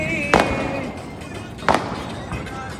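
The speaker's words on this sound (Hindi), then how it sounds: "पटाखे चल रहे हैं" Two sharp firecracker bangs go off during a family Diwali celebration, spaced more than a second apart, loud and close, over a steady bed of background noise and distant voices.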